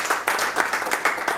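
A church congregation applauding for Jesus, a dense burst of rhythmic clapping and cheering from a crowd, loud and close for a brief moment.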